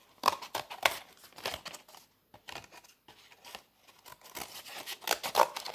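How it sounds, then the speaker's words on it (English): Scissors snipping through two thick sheets of card for a fish sculpture craft, with a series of close, crisp cuts and crinkling paper in uneven bursts separated by short pauses. "it's quite thick, cutting through two sheets of card"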